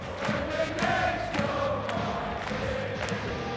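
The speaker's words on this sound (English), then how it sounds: "the Outlaws cheering is being captured for eternity" Fans of the Outlaws, a football team, shout and cheer together as a crowd, a rough roar of voices with sharp individual yells standing out.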